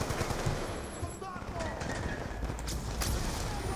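Rapid gunfire from the Black Ops 2 game mission Judgement Day crackles in bursts beneath an excited player's voice and game audio, a dense, busy mix of shots and effects.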